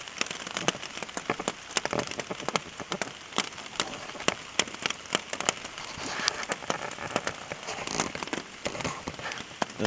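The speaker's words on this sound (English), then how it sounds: "Well, it's still raining." Steady rain pattering on a taut tent surface, dense irregular drops close by, with no talking.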